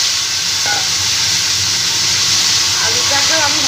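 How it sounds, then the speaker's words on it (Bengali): Long potato strips fry in hot oil with cumin and whole garam masala in a Bengali kitchen, giving a loud, constant, close sizzling hiss with faint clinks near the end. "আলুটাকেও আমি ভালো করে একটু ভেজে নেব"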